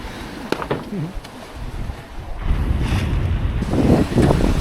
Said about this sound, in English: It's ready, sailing!